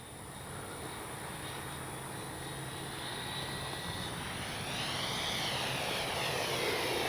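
Freewing F9F-8 Cougar RC jet flying overhead, a steady whooshing ducted-fan whine that holds fairly even and slowly grows louder as it passes, with a faint tonal sweep near the end.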